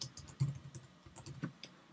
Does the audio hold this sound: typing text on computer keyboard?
yes